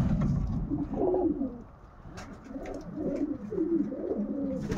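Racing pigeon cooing in low, rolling phrases, two soft bursts with a pause between, fairly close in a quiet loft with faint background bird calls.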